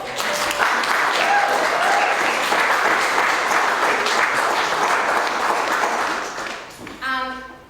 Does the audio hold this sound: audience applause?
yes